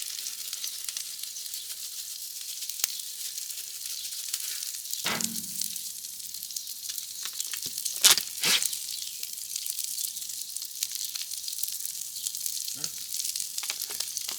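Asparagus sizzles in butter on a Blackstone griddle, a steady bright frying hiss close by, punctuated by a few clacks and scrapes of utensils.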